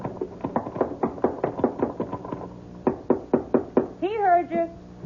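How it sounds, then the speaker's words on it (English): Hard, rapid knocking on a wooden trap door, about fifteen heavy thuds in an uneven run, then a short pause and a few more blows, followed by a brief voiced call at the end. "You get to the top, just bang on the trap door."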